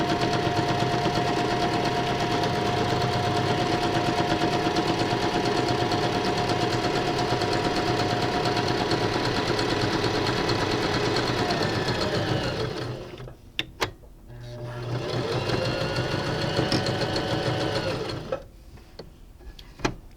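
Mechanical domestic sewing machine stitching rapidly forward and in reverse, a loud steady close-up whirring chatter that runs continuously, then halts briefly and resumes before stopping, with no voices.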